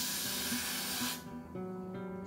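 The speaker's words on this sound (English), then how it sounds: "and then I'm gonna start spraying" Hair spray hisses loudly and continuously close up while applied to a frontal wig, then cuts off abruptly, leaving a quieter room tone and a faint short burst.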